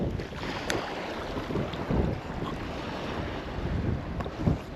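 Strong wind blowing over the sea off a Sussex reef during a bass fishing trip, a steady loud roar and buffeting against the microphone with waves washing beneath, no voices.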